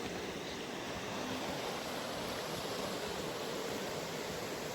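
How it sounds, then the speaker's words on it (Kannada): Water of the Gomati river rushing past the ghats at Dwarka toward the sea, a dense, steady broadband roar with no breaks, heard close and without talk. "ಆ ನೀರಿನ ಹೋಗ್ತಾ ಇರೋದು, ನೀರಿನ ಶಬ್ದ ಕೂಡ ಕೇಳಿಸುತ್ತೆ ನೋಡಿ."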